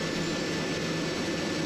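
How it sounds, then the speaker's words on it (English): Number one engine on an airplane cranks up with air applied, giving a loud, steady, broadband roar and hiss with a faint high whine, close and unbroken throughout. "we got the signal to crank up engine number 1. So air has just been applied to the engine."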